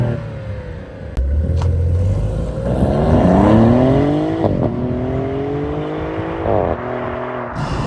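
Maserati GranTurismo engine in Corsa mode revving up and accelerating, a loud, close rising roar with gear changes and no speech.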